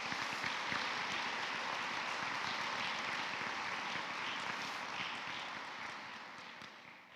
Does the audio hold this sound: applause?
yes